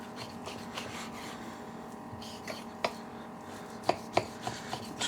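A knife slices meat into even strips for honey bourbon burnt ends on a board, producing soft scraping strokes and several light taps, close and quiet, with someone speaking faintly.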